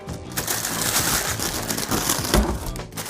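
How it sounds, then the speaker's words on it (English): Crinkly plastic bag being pulled off a boxed Star Wars Black Series Carson Teva X-Wing pilot helmet, a steady close rustling and crumpling throughout with a sharper crunch near the end. "the plastic bag comes off,"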